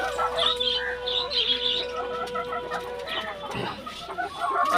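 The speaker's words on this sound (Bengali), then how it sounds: "আমাদের এখানে সবগুলোই দেশি মুরগি।" A flock of native desi chickens clucks in short repeated calls close by, with chirps and a brief crow-like call mixed in against steady low background noise.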